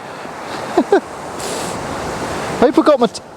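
Waves break and wash up a shingle beach at Southbourne while beach fishing for bass, a steady broad surf roar with wind noise on the microphone, and a voice speaking briefly over it twice.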